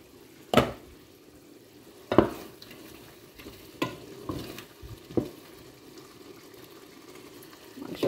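Meat with spices fries in a wok (kadai), cooked with spinach, under a continuous sizzle, with four or five loud scraping stirs of a spatula at irregular intervals.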